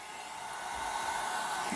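A hair dryer blows steadily on wet alcohol ink painted as an autumn leaf, a constant close, even whoosh and whine with no talking.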